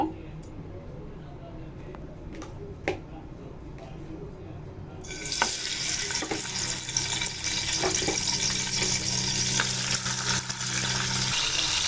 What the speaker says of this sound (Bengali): চিকেনটা ভাজার জন্য প্যানে তেল গরম করে নিয়েছি। এখন চিকেনগুলো দিয়ে দিব।